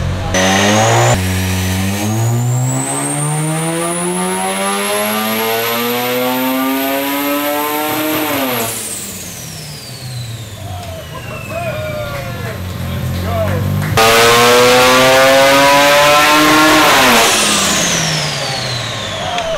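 A built Mazda RX7 rotary engine on a dyno, revving in long rising pulls to a high screaming peak, then dropping off before a second hard pull; loud and close, with voices in the background.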